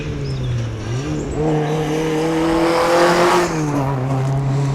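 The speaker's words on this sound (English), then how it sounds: "that was Paddy and Tom Homan in their little 1400 Ford Puma" A small 1400 Ford Puma rally car passes on a special stage at the East Riding Stages Rally, its engine note loud and close, rising and shifting through gears as it goes by.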